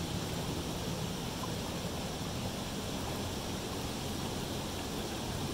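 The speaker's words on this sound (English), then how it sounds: "How perfect is that little waterfall right there?" A small wilderness waterfall in the Mount Baker area gives a faint, even, broadband rush of falling water that runs unchanged throughout, with no voices.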